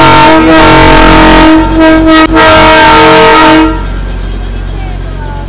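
Darjeeling toy train engine sounding its horn: a loud, sustained tonal blast with a brief dip in the middle, cutting off after about three and a half seconds and leaving a low rumbling background.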